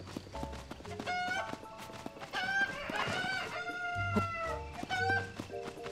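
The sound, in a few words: chickens clucking in the video game Zelda: Tears of the Kingdom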